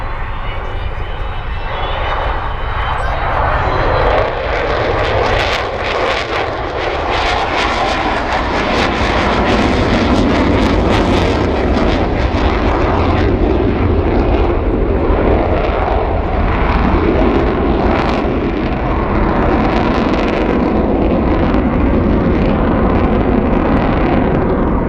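The last flying Avro Vulcan bomber passes at the Cosford air show, a loud, sustained roar of jet engines that swells and rumbles steadily throughout, dense and overwhelming with no voices.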